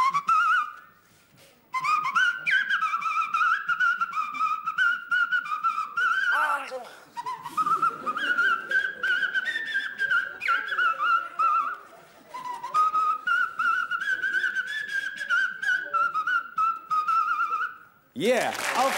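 A contestant on the 1986 German TV show "Na sowas!" whistles a melodic, organ-like tune using the second toe, with sustained wavering notes and brief pauses through most of the stretch.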